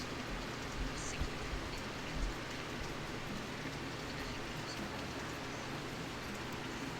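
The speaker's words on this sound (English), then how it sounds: "And it's raining." Continuous rain in the video game Rollercoaster Tycoon 3 patters steadily, a dense even hiss of drops with no pauses and no voices.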